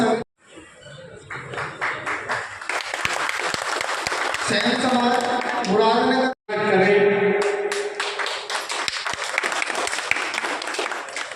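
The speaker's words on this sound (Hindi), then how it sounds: "तालियों की गड़गड़ाहट इतनी होनी चाहिए कि ये हॉल गूंज जाए" A hall audience at a political party gathering claps, dense applause swelling after a brief pause, with someone talking over it through much of the stretch and a sharp break midway.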